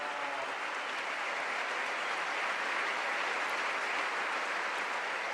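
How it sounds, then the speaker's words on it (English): Long, steady applause from a conference audience, a dense even wash of many hands clapping at a constant moderate level throughout, with no speech over it. "This long applause bears witness"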